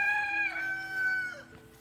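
A homestead rooster crows once, a close, clear, drawn-out call that rises and then trails off.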